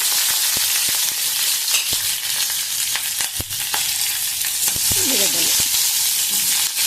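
Onions, curry leaves and green chilies fry in hot oil for potato curry, a dense, loud continuous sizzle with scattered pops and the scrape of stirring throughout.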